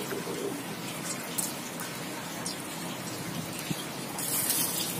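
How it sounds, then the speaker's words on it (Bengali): Bay leaf, cumin and dried chilli sizzle in hot oil in a kadai, a steady, dense crackling hiss with occasional sharper pops, fairly quiet throughout. "এই দেখুন আমি তেজপাতা আর একটু সাদা জিরা আর একটু শুকনো লঙ্কা আমি এটাতে ফোড়ন দিয়ে"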